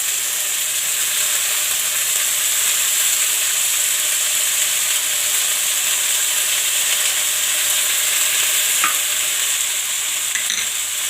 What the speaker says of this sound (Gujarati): તો હવે આપણે આ ભાજી ધોઈને સરસ ભાજી ધોઈ લીધી હતી। તો આપણે નાખી દઈશું ભાજી।